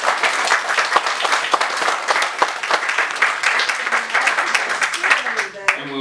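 Warm round of applause from an audience at a talk on Native American spirituality at St. Catharine, steady dense clapping throughout, fading near the end as a voice begins speaking.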